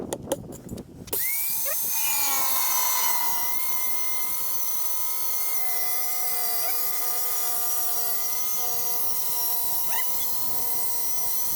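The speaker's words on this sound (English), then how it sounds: "You've just seen me cut the side panel and what is going to be the flap" A power saw cuts a wooden side panel for a self-built VW T5 camper van kitchen unit, a loud steady whining drone with shifting pitch that runs for several seconds after a brief rattling start.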